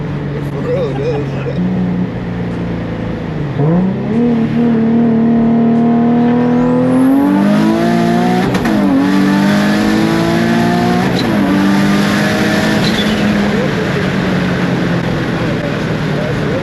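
An 800 hp Nissan 350Z heard from the passenger seat on a ride-along, its engine revving hard through rising gear pulls with loud, close roars, while occupants talk over the noise.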